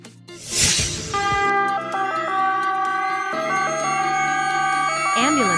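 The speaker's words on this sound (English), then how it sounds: "Ambulance." An ambulance siren wails loudly, its stepped two-tone pattern sustained after a brief noisy onset, with a rising sweep near the end; no talk is heard.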